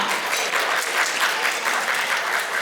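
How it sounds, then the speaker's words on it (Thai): Wedding reception guests at a hotel ballroom clap together in a steady, dense wash of applause, moderately loud and sustained throughout with no talk over it. "ขอเสียงปรบมือดังๆให้กับตัวเองอีกสักครั้งหนึ่งค่ะ"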